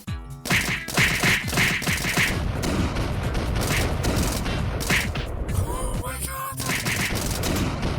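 Rapid, dense SMG (MP5) fire from a video game, a loud continuous stream of sharp shots with impacts and crashes mixed in that runs almost the whole time, stopping briefly once near the end.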